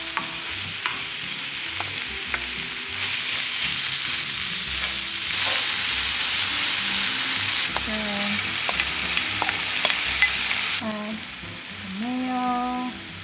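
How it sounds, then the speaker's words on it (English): Fried rice sizzles and spatters steadily in a high-quality non-stick pan, with stirring scrapes and clinks over the constant frying hiss. Near and loud throughout, with no talking. "So I'm gonna make my fried rice in there."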